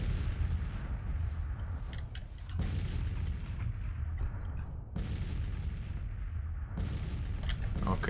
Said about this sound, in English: Go crazy on the bombardment on enemy cannons.